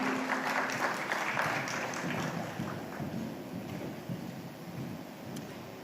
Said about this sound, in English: a big round of applause for Sanjay Kapoor.